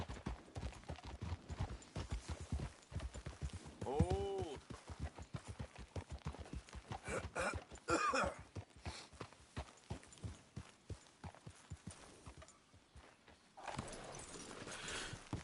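Rapid clip-clop of hooves from a running horse in the video game Red Dead Redemption 2, rhythmic and close, with a brief exclamation and other sounds breaking in partway through.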